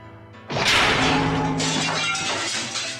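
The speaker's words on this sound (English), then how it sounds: "Its arm slices through the air, smashing the window into tiny shards, which scatter across the hallway floor" A window smashes into tiny shards in a horror video game, heard as a loud sudden crash of breaking glass followed by scattering, tinkling fragments that fade over a few seconds, with no voices.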